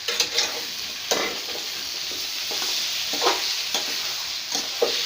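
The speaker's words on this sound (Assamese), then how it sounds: "মই আকৌ এতিয়া লৰাব লৈছোঁ" A spatula scrapes and stirs jackfruit curry in a pan, with sharp clatters at irregular intervals over a soft, steady sizzle, close and alone.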